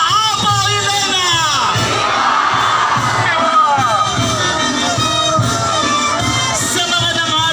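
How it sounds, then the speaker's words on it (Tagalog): Festival crowd at the Santa Elena feast in Hagonoy, Bulacan cheering "Viva Apo Elena," loud massed voices shouting and whooping continuously with overlapping calls. "Ang isang sigaw namin ay Viva Apo Elena!"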